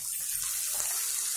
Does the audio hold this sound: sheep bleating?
no